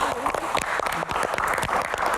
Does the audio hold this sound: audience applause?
yes